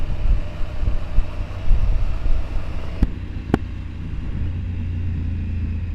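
Wind noise while riding at about 40 to 50 km/h, picked up by a Hollyland Lark Max wireless mic with the visor down: a steady low rumble and buffeting, loud and continuous, with two brief sharp ticks midway.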